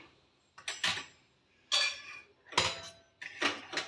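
A metal spoon scraping and clinking against a bowl while flour is mixed with hot oil, four separate bursts of clatter with short quiet gaps, close and clear, with no voices.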